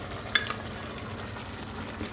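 Zucchini and cheese are stirred in a hot pan, with a steady soft sizzle, a spoon clink near the start and gentle scraping strokes, close and quiet with no talking.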